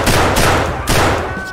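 Gunfire in the video game Escape From Tarkov rings out as two loud, sharp bursts of rapid shots about half a second apart, each tailing off into echo, with no talk over them.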